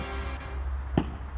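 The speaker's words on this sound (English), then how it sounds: "And that is the noise of you hitting your target on your second shot." An arrow loosed from a wooden bow strikes its target with one short, faint thud over a steady hiss of outdoor background noise.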